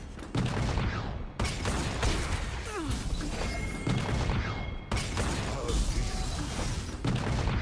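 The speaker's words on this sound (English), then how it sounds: "We'll let the cannon barrages kill them." Rapid bursts of cannon barrages from the Path of Champions card game crash and boom repeatedly, a dense volley of impacts across the whole stretch, loud and close with no talking.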